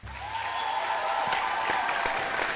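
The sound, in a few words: audience applause as contestants leave stage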